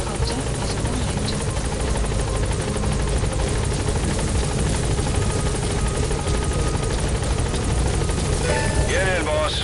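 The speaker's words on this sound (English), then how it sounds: "Support helicopter has arrived." A loud helicopter in Metal Gear Solid V: The Phantom Pain drones steadily throughout, rotor thrum and engine whine constant, with faint radio-style voices under the noise.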